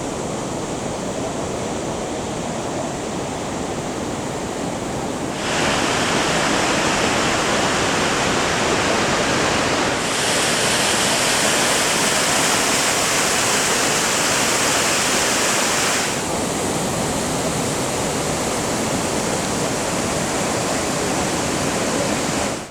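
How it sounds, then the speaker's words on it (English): Kegon Falls, a 97-metre waterfall at Nikko, Japan, roaring as a dense, steady wash of white noise close by, its level shifting slightly over time with no voices. "This waterfall is 97 meters in height. It's freaking beautiful."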